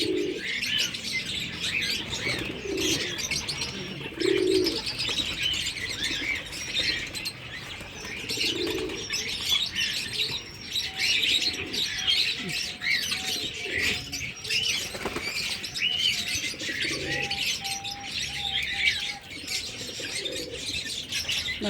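Pigeons cooing in soft low repeated calls with chirps and occasional wing flaps, close by, alongside steady background noise and no talk.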